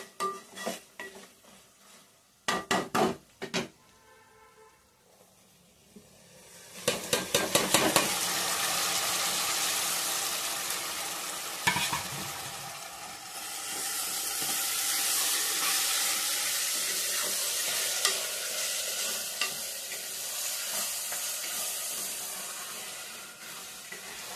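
Tomatoes go into a pan of dry-fried meat for a Telugu meat masala curry, setting off a loud, steady sizzle after a few sharp clatters of utensil against pan, with bursts of stirring scraping through the continuous frying.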